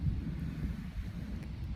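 Steady outdoor wind buffeting the microphone in open natural surroundings, a constant low rumbling rush with no voices.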